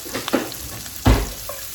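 Chopped vegetables softening in a hot pan are stirred with a wooden spoon, giving a soft sizzle with a couple of scraping strokes, the louder one near the end.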